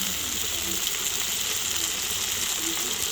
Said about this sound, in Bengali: দিয়ে দিচ্ছি সামান্য একটু জল, খুব সামান্য।